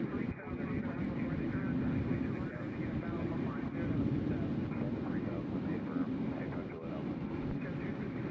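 Airplane departing Nashville International Airport on a humid morning, a steady broad engine roar held throughout at moderate distance, with people talking over it.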